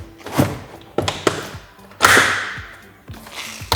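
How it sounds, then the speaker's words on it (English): Volvo V60 interior door panel being pulled up and off, giving several sharp thunks and plastic snaps spaced across a few seconds, close and fairly loud with no talking. "You just simply pull the door up"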